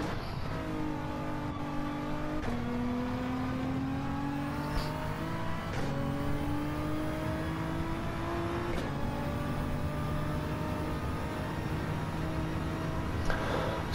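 Race car engine in a racing video game held at steady revs in 5th gear, a loud continuous drone with rising harmonic pitch and a few brief shifts or dips, alone without talk.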